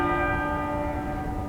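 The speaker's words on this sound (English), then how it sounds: "one of those tolls of 101 tolls from the tenor bell on Westminster Abbey" The tenor bell of Westminster Abbey tolls during the Queen Mother's funeral in 2002, one long, rich stroke ringing with layered overtones over the murmur of crowds gathered outside in Parliament Square.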